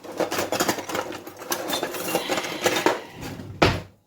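A metal spatula scrapes royal icing off a work surface in a home kitchen, giving rapid uneven clatters and scratches close by, ending with one sharp louder knock.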